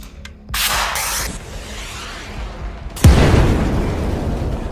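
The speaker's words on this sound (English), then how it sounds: "Javelin anti-tank missiles are fired." Javelin anti-tank missiles firing and exploding in a battlefield, heard as a brief crack, then a burst of launch roar, and later a loud, deep boom followed by a long rumbling tail, with no voices.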